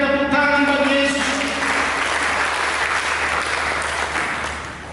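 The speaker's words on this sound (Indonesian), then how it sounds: "Mereka berikan tepuk tangan bagi Yesus." A church congregation applauds loudly for a few seconds, and the clapping tapers off slightly at the end, with a few sustained musical tones audible at the start.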